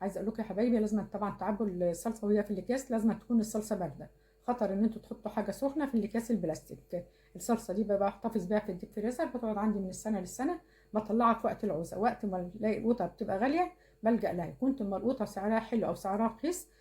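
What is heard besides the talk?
None of the usual background noises is heard.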